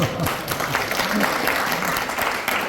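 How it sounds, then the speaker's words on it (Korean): Steady, loud applause from a crowd fills the whole stretch, dense clapping without pause. "박수가 터져 나올 수밖에 없습니다."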